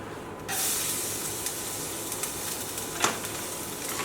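Garlic hits a hot pan for lemon chicken and bursts into a loud, sustained hiss of sizzling oil, which holds steady afterward with a faint clink near the end.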